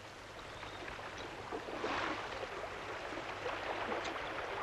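Water rushing steadily through a tidal race draining a large lagoon, resembling a freshwater creek; a continuous broadband flow with slight surges, moderately close and with no voices.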